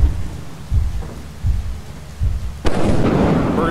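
Thunder crashes during a rainstorm in Lethal Company, with several low rumbles followed by a loud crack that gives way to steady heavy rain, all without talk.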